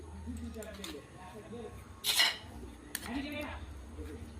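Tamarind water being mixed with spices in a kitchen for puchka, soft stirring and a few sharp clinks of a utensil against a bowl, close, over a low background hum.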